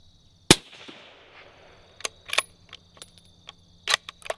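A Bergara B-14 Ridge rifle in 6.5 Creedmoor fired freehand off a bipod outdoors: one sharp shot opens, followed by fainter metallic clicks and clanks of bolt cycling and handling.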